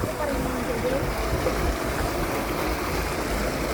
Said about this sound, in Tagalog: ang lakas ng tubig